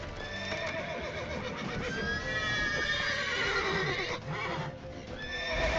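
A horse in The Witcher 3 whinnies loudly and repeatedly amid clattering hooves and game noise, its shrill neighs rising and falling over several seconds.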